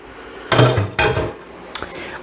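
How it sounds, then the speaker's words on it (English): Ground beef and vegetables sautéing in a pan, with a few loud scrapes and clatters of a utensil stirring against the metal, two bursts close together then a sharper knock, over a low background sizzle. "sauteing our meat and veggies for just about 10 minutes now"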